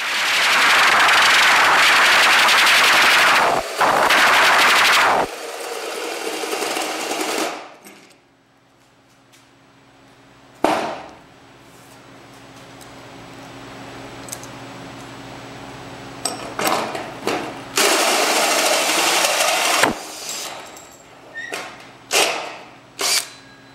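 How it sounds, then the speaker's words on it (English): A pneumatic air file cuts foam insulation, giving loud, buzzing bursts of rapid rattling that start and stop several times, separated by quieter stretches with faint hum. "I used a pneumatic air file to cut the foam."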